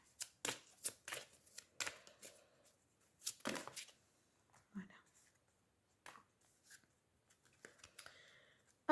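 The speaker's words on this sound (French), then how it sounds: "Retournez les cartes, s'il vous plaît." Playing cards turned over one after another during a French card reading, giving several quick papery flicks and snaps close by, with soft rustling and pauses between, no talking.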